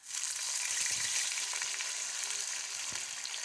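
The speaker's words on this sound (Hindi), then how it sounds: "बस ज़्यादा हमने फ्राई नहीं करना, ये परफेक्ट हो चुका है।" Vermicelli frying in a pan for sheer khorma gives a steady, close sizzle that runs without a break, with faint stirring scrapes now and then.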